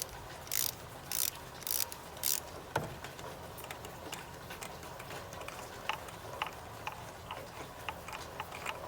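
A ratchet wrench on an extension loosening a spark plug on a 2005 Honda CR-V, with four crisp bursts of rapid ratchet clicks near the start, followed by faint scattered ticks under a steady background hum.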